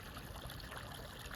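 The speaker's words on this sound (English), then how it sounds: "I'm back in the creek" Creek water in southwest Missouri flowing and trickling steadily over stones, a soft constant close wash of babbling water with no voices.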